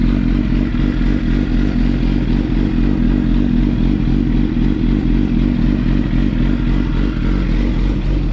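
A Suzuki GSXR motorcycle fitted with an Arata Delta 1 full racing exhaust idles while warming up, a loud, steady, burbling low rumble with rapid pulsing and no talk.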